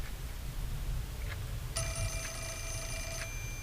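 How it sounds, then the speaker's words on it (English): A telephone rings in the horror video game Fatal Frame 4, one bright electronic ring burst lasting about a second and a half over a low steady background rumble, with no talking. "Hang on, there's a phone is ringing."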